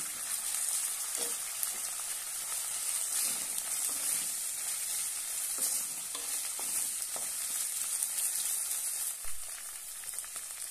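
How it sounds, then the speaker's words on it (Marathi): Sweet corn frying in oil for poha makes a continuous soft sizzle and hiss, with occasional light crackles and no speech. "आता यामध्ये स्वीट कॉर्न घालूया आणि छानपैकी तेलामध्ये फ्राय करून घेऊया।"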